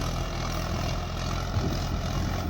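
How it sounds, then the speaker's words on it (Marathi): A tractor's diesel engine rumbles steadily and low at close range, a heavy droning idle with no voices over it. "चांगलं चालू आहे पा ट्रॅक्टर"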